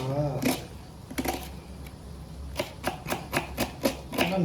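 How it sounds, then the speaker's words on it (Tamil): Sharp knife strikes chopping onions on a cutting board, a few scattered at first then a steady run of quick chops, close by with faint background noise. "வெங்காய பச்சடிக்கு வெங்காயத்தை வேற மாதிரி கட் பண்ணுண்டா"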